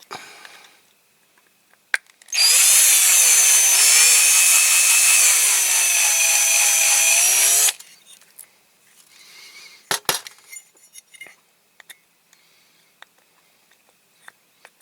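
Drill bit boring into a Dinky Toys RAF Pressure Refueller model, a loud, steady high whine lasting about five seconds and then cutting off, followed by scattered clicks and small taps.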